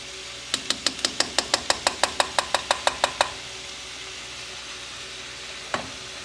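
Orange sauce, half a cup of it, being stirred into cooked rice with a utensil: a quick run of about sixteen evenly spaced clicks against the bowl, then quiet and one last tap.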